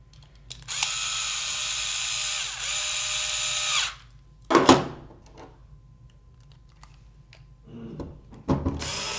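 A small power drill screws a part onto a Nerf Maverick blaster, whirring steadily for a few seconds before stopping, followed by a couple of short clicks and bursts of handling noise.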